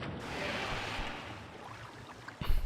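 A mechanism in Morrowind drains water away with a rushing, surf-like wash that slowly fades, then a brief clunk at the end.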